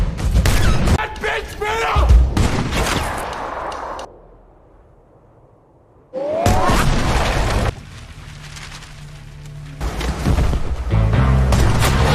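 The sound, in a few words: gunfire in movie shootout scene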